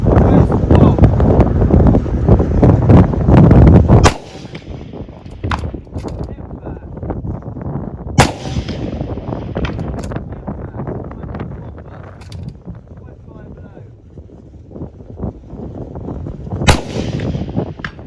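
Gunshots ring out at steel targets on an outdoor shooting stage: a few sharp, widely spaced cracks over wind buffeting the microphone, which is heaviest at the start.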